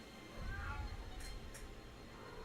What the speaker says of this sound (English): I have a cat talking to me at the moment.